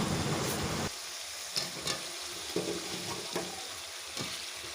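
Chicken with potatoes and tomatoes stirred in a frying pan for a chicken kosha: a loud sizzle at first, then a steadier fry broken by several spoon scrapes against the pan, close by with no talking.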